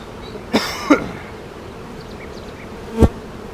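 Honeybees buzzing around an open hive during an early May full inspection on a farm, a soft continuous hum with a few louder close buzzes passing by the microphone and one brief sharp knock or cough-like sound.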